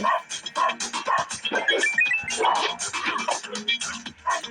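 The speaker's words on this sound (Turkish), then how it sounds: "Köpeğini çekmiyor bir de. Köpeğiyle saldırıyor." A dog barks and yips repeatedly at close range, busy and agitated, with voices and commotion mixed in.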